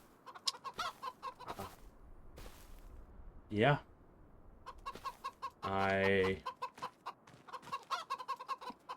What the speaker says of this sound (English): We got 15 chickens and 1 rooster.